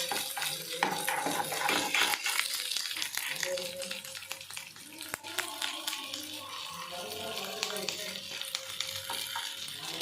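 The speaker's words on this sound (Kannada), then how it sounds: "ಉಳ್ಳಾಗಡ್ಡಿ ಸ್ವಲ್ಪ ಫ್ರೈ ಆದ್ಮೇಲೆ ಸ್ವಲ್ಪ ಗೋಲ್ಡನ್ ಬ್ರೌನ್ ಆಗಿ" Onions fry in a pan, sizzling and crackling close by while being stirred, with scraping and clinking over the hiss; a voice speaks briefly.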